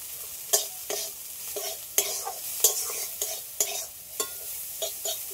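Neem flowers frying in a pan, stirred and tossed with a regular scraping rhythm of spatula strokes over a soft sizzle, close and moderately loud, with no talking.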